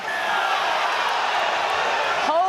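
A large crowd at a women's rugby match between France and England roars loudly and steadily in disapproval, with a few whistles and a voice rising above the noise near the end.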